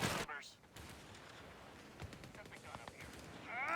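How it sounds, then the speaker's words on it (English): A P-47 strafing run in Company of Heroes 3 delivers rapid bursts of gunfire and sharp impacts. The crackling strafing rises and falls over steady battle noise, with a voice-like sound faintly present. "P-47 strafing."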